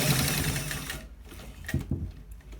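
A sewing machine stitches fabric for a shawl collar, running in a steady close whir for about a second, then pausing before a few short bursts of needle action.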